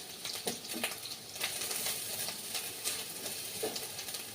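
Coconut and jaggery frying together in a pan, a steady soft sizzle with faint crackles and occasional scraping stirs, close and continuous with no talk.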